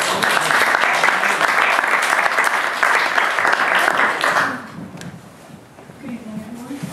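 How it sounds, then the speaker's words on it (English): An audience at a literary panel evening in Dublin claps loudly and densely for about four and a half seconds, then the applause dies away and a voice begins talking. "So a round of applause to start the evening."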